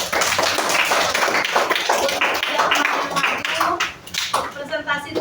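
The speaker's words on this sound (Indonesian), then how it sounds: "Oke, kita kasih aplaus dulu" A fifth-grade classroom claps for group presentations on ecosystems, a dense burst of many small hands with scattered taps, mixed with children's voices and chatter, thinning out toward the end.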